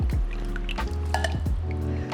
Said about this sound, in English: we're gonna go ahead and add our coconut milk